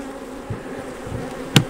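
Honey bees buzz in a dense, constant drone during a beehive inspection in western Oklahoma, close and fairly loud, with two sharp knocks near the end.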